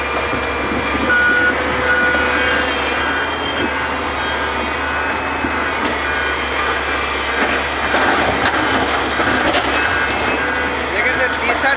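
A Tata Hitachi excavator works on site with a steady broad machine drone and a repeating reversing beeper, while voices talk intermittently over the noise.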